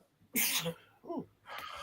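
A single sharp sneeze, loud and close, followed by a shorter vocal sound and then a burst of noisy breath.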